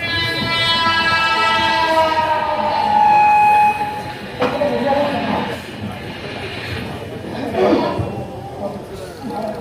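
A train rolls along with a steady mechanical rumble and a drawn-out horn or whistle tone early on, while voices talk over it throughout.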